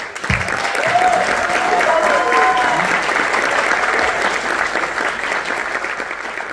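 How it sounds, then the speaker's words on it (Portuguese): Sustained applause from a crowd of guests fills the room at a fifteenth birthday debutante party, a steady, dense clapping with a voice speaking over it early on. "Vamos receber com uma salva de palmas, Tainara."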